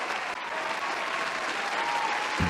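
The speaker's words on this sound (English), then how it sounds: "Hey, round of applause for all you guys." Steady crowd clapping during a banjo lesson, an even wash of many hands heard fairly faint and distant throughout, with no voices over it.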